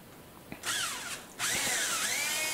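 A power drill drives a long screw through a predrilled alignment hole in a benchtop build, with two rising and falling whirring bursts, close and fairly loud, and no voices.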